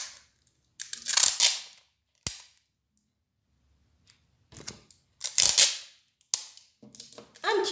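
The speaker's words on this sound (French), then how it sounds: "Un petit peu de bruit, le scotch" Adhesive tape for a macramé bracelet ripped off the roll and pressed down in several short sharp crackling bursts separated by silence, close and fairly quiet.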